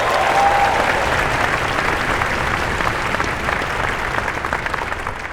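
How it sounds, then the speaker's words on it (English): Loud, dense applause from a concert audience at a university marching band performing arts showcase, a continuous wash of clapping that holds steady and fades a little toward the end. "Let's give them a round of applause."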